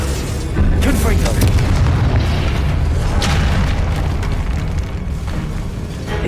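The Confringo spell explodes in Hogwarts Legacy on PS5, a loud, dense booming blast with rumbling, crackling debris that carries on, with a voice calling out spells over the noise.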